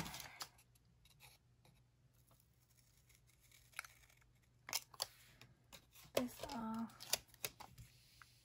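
Scissors cutting paper at a desk during planner work, a few quiet scattered snips and rustles with soft handling noises, close and faint, no speech over them.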